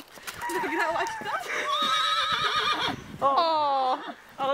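A horse whinnies and neighs loudly several times at close range, with a long, wavering whinny near the end and hoof clip-clop plus faint background voices.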